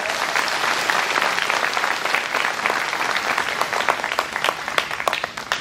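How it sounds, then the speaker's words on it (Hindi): A congregation at a Catholic confirmation ceremony in a parish church applauds in a sustained wash of many hands clapping. Individual claps stand out near the end, with no talking over it. "ताली बजा दीजिए एक बार।"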